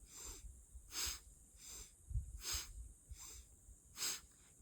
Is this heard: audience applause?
no